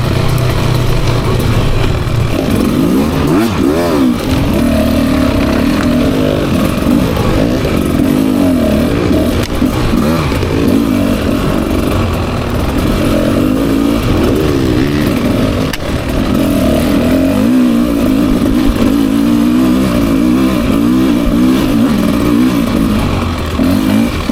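A 2024 Beta 300 RR Race Edition two-stroke dirt bike rides in third gear with the clutch being fanned, its loud, rasping engine droning continuously and rising and falling with the throttle.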